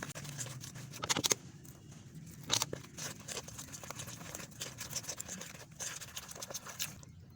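Spiced fish-fry batter of flour, ajwain and water being mixed in a bowl, with faint scraping and sloshing strokes and a few sharper clinks and taps of the utensil against the bowl.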